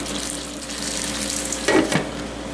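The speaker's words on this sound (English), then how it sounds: "We're going to simmer this for a little while." Sloppy joe meat with barbecue sauce and brown sugar simmering in a skillet, a soft, even bubbling sizzle with a short clatter of stirring near the end, no voices.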